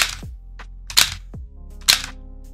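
Three sharp, close reports from a nine millimeter handgun, spaced about a second apart, each a hard crack followed by a short ringing decay, with no voices.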